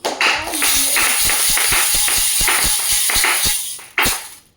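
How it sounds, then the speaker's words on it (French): A church congregation applauding during a French-language sermon: loud, fairly rhythmic group clapping with distinct sharp hand strikes, stopping briefly before a final clap, with little talk. "Est-ce qu'on peut applaudir ça?"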